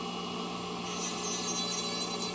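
Steady abrasive grinding of a dental implant drill guide as its cervical and buccal surfaces are trimmed with a rotary tool, a continuous close whirring rasp that brightens partway through, with no talking.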